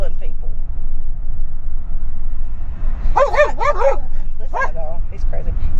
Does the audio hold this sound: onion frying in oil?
no